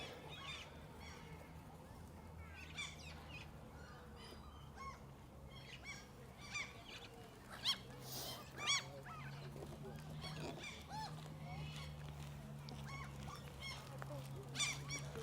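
Goose-like birds honk repeatedly at an exhibition in Malmö, a city setting, with scattered calls over steady low background hum and faint voices nearby.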